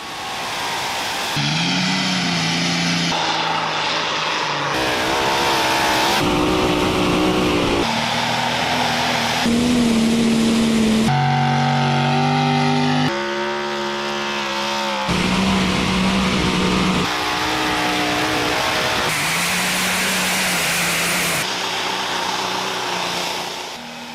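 Loud, roaring engines rev and strain continuously at an NTPA Grand National truck and tractor pull, with pitch shifting up and down between segments as heavy motors labor under load.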